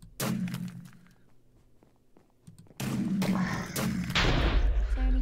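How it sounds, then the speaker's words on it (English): Explosions in a Minecraft game round, a few dull booming blasts with rumbling low-end bursts, loud and close in the latter half, with people talking over and between them. "I'm just hearing explosions"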